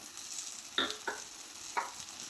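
Moringa drumsticks and potato sauté in a pan for a curry, a steady soft sizzle broken by three brief stirring scrapes, close and fairly quiet.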